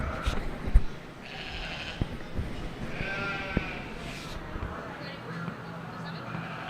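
Sheep bleat in a show ring at a youth sheep expo, several short, nasal cries at mid-distance over a busy hall with hoof scuffs and people talking nearby.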